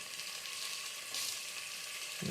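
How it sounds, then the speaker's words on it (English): Food fries in oil outdoors under the sun, a steady soft sizzle and crackle with a brief louder burst midway, no talking. "You hear that sizzle?"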